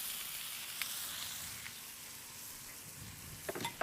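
Food sizzling steadily in a hot pan while lime and seasonings are stirred in, a soft continuous frying hiss with a few light scrapes and clicks of the utensil near the end.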